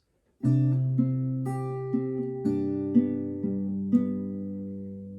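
Fingerpicked acoustic guitar plays a slow, gentle passage from a song's intro, single plucked notes ringing over a sustained low bass, each new note clearly struck, with no voices.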